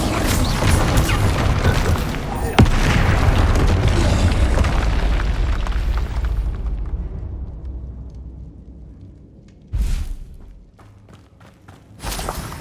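A Bombarda spell explodes in the game Hogwarts Legacy with a loud, heavy boom that rumbles and fades over several seconds, followed by two shorter, sharp bursts near the end.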